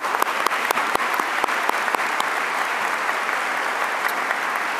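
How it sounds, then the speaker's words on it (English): Applause from the audience at a 2023 high school commencement ceremony: a steady, dense wash of clapping that holds for the whole stretch, with sharper individual claps standing out near the front and no talking. "Round of applause for them again,"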